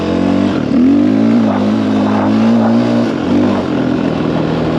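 KTM EXC 530 dual-sport dirt bike engine warming up, a close, loud, steady idle with a couple of mild revs rising and falling, no talk.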